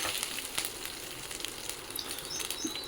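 Ginger, garlic and chopped curry leaves fry in hot oil, giving a soft steady sizzle with small crackling pops throughout.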